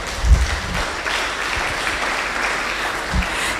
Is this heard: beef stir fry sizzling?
no